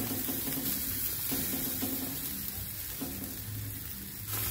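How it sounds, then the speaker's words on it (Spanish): Garlic sizzles steadily in hot oil in a pan, a continuous crackling hiss with faint stirring scrapes, moderately quiet and unbroken throughout. "aceite con ajo"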